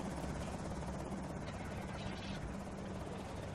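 In the Project Zomboid video game, a helicopter flies overhead during a helicopter event, a steady dense rotor drone that holds loud and unbroken throughout, with no pauses.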